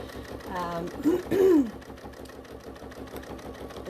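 An industrial sewing machine quilts with a rolling foot, its rapid, steady stitching pulse running evenly throughout, with a brief voice-like sound rising over it near the middle.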